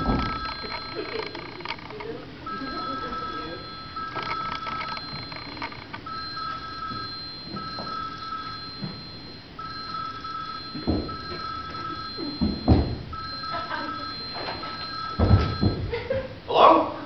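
A shoe phone in a stage comedy trills in repeated bursts of bell-like ringing, fairly loud and close, while actors speak and move around it.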